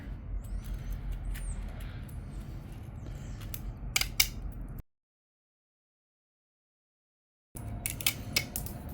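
Wire mesh being snipped off a Z-Grill tray, a few sharp close metallic clicks of the cutter over faint background noise, then a few seconds of total silence before the noise returns.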